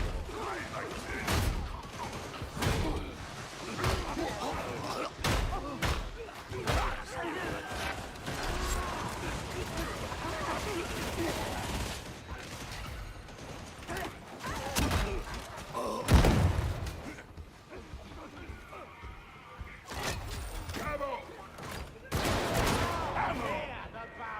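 Video game sniper rifle fire from a sharpshooter battle: repeated sharp, loud gunshots with heavy thuds and mechanical clatter at irregular intervals, and a voice talking in between.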